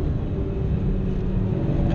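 Peugeot 106 Rallye engine under way, a steady, close, continuous droning rumble with road noise, constant in level and no voices.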